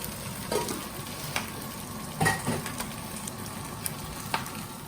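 Rice hitting a hot pan for shrimp fried rice, frying at high heat with a steady soft sizzle punctuated by a few sharper crackles and stirring scrapes, no talking.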